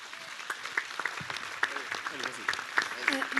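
Applause from an audience at a public talk with two astronauts, a steady patter of clapping with voices talking over it.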